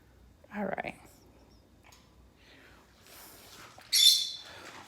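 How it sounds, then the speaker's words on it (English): Pet birds calling loudly in the morning indoors, with a burst of squawks near the start and a sharp, shrill call near the end, separated by quieter chatter. "that is waking up the birds in the morning. It's really fun and really loud"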